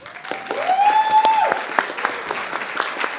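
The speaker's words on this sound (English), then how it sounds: "So please give them a round of applause." Audience applause at a Santa Ana city council meeting, a dense, loud burst of clapping that starts at once, with a brief whistle-like tone over it early on before the clapping settles into a steady patter.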